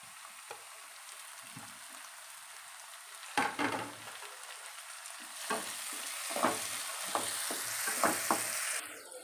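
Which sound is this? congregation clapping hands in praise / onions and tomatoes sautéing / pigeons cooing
onions and tomatoes sautéing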